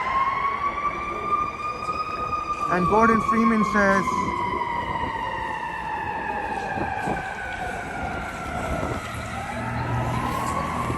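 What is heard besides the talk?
emergency vehicle sirens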